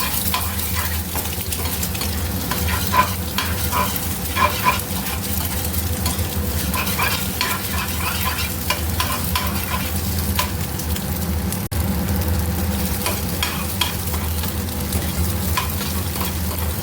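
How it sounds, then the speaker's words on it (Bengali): Eggs fry and are stirred in a pan before Maggi instant noodles (Nestlé and atta varieties) are added in a home kitchen, giving a steady sizzle with repeated scraping stirs throughout, close and fairly loud, with no talking. "ডিমগুলো তো হয়ে গেছে ভাজা"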